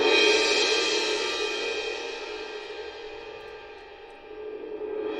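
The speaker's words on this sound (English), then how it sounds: "A great way to transition between different measures is to add a cymbal swell" An orchestral cymbal: a bright, shimmering wash rings out loud and slowly fades after the crash, with a faint rising swell returning at the very end.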